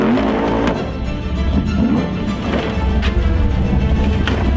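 An off-road race car in a Formula Off-Road event strains up a steep hill, its engine roaring loud and steady throughout with no one speaking.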